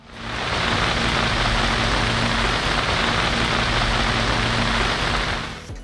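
Heavy monsoon downpour over Azad Kashmir sounds as a dense, steady, loud hiss of rain that fills the whole stretch without letting up.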